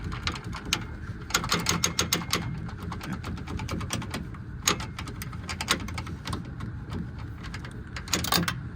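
A hand wrench ratchets a stubborn bolt loose on a 4x4 Silverado's suspension, giving bursts of quick, close clicking over a low background rumble.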